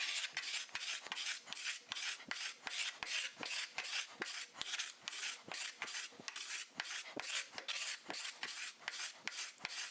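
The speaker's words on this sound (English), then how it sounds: "you'd probably want to use a card scraper." Steady rhythmic scraping of a card scraper on a wooden surface, a rasping stroke repeated about twice a second, bright and close, with no talking.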